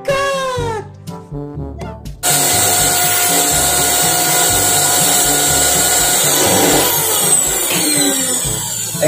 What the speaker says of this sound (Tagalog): ito na guys, i-vacuumin na natin.